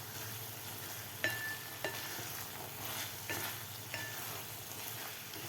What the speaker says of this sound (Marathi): कोथिंबीर घातल्यानंतर व्यवस्थित त्याला मिक्स करून घेऊया.